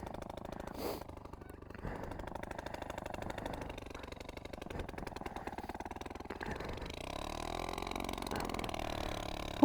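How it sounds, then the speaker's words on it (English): A 1960s moped engine idles with a rapid, steady putter, close and moderately loud. It revs up slightly near the end and finishes with a sudden sharp sound. "Oh, it's idling, thank God."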